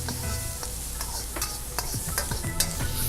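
Clams stir-fry with homemade black bean sauce in a pan, giving a loud steady sizzle with repeated scraping and clattering strokes of the stirring utensil.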